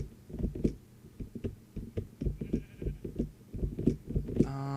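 Sheep in the Minecraft video game bleat repeatedly, a series of short rhythmic nasal calls that are faint and close-sounding, ending with a brief synthetic chime.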